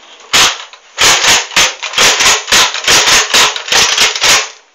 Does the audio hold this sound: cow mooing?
no